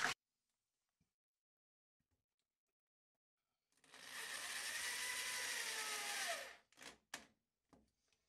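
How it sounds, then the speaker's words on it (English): A power driver whines steadily for a few seconds, driving a self-drilling screw into plexiglass, bogging slightly as it finishes, then a few short bursts follow before quiet. "these are self-drilling, so I don't have to pre-drill the holes"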